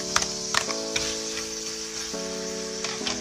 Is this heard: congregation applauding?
no